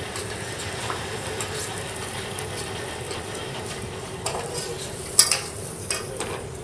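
Chopped onions and garlic sweat gently in a pan as chef Susur Lee cooks, a soft, continuous low sizzle with light stirring scrapes and a few sharper clicks near the end.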